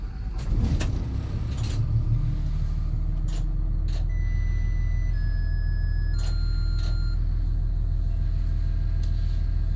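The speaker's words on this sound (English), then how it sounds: "you'll turn the key and start the engine" A Bluebird school bus diesel engine cranks briefly with the key, then settles into a steady, loud, low idle rumble close by, with faint clicks and short electronic tones over it.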